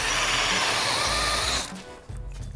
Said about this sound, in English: So we've got to drill the head off this one, just like we did with the first